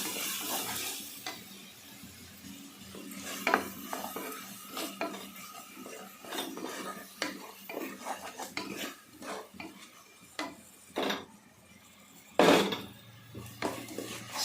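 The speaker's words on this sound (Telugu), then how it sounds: "పచ్చిమిర్చి వేసేస్తాను వేసుకొని చక్కగా మనం మంచి గోల్డెన్ కలర్ వచ్చే వరకు వేపుకోవాలి" Green chillies fry in a pan with turmeric and salt, a light sizzle under repeated clinks and scrapes of a utensil stirring against the pan, with a louder clatter near the end.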